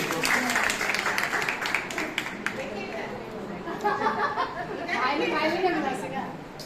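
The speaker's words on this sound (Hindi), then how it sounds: "ताली बजाइए एक बार इनके लिए" Audience applause at a Navratri and Durga Utsav quiz contest: a burst of many hands clapping for a contestant that fades into a steady murmur of crowd chatter.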